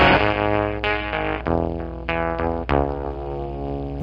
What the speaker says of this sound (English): it starts to turn into like a really weird, almost FM transmitter, grainy, kind of just weird, crackly, static sound